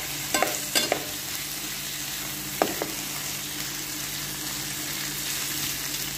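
Ground meat sautés with bitter gourd (ampalaya) and a little salt in a pan. It gives a steady close sizzle throughout, broken by a few sharp utensil clicks and scrapes near the start, with no talking.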